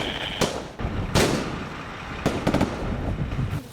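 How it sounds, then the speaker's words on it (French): Several sharp gunshot cracks burst out at irregular intervals over a loud rumbling background, with a quick cluster of shots near the end. "les coups de feu sont audibles"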